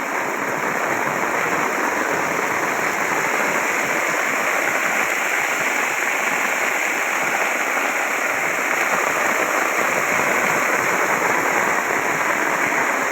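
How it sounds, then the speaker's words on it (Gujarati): Heavy early-morning rain pours down in Rajula onto a rooftop terrace, a dense, continuous loud hiss with no breaks and no voices. "જોરદાર વરસાદ આવી રહ્યો છે"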